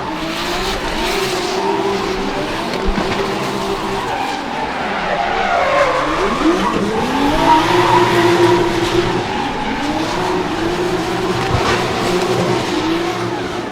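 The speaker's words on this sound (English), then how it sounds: "represented by Anton Swaricki, having Toyota Supra with a very powerful engine" A powerful-engined Toyota Supra drift car at a Sochi drift qualifying round slides with loud, sustained tire squeal and engine roar, the pitch rising and falling through the run without any talk.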